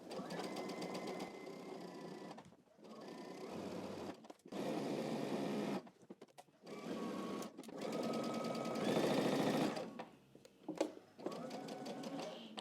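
A home sewing machine runs along the edge of a pocket on a Simplicity 9114 garment, humming in several steady stretches broken by brief stops.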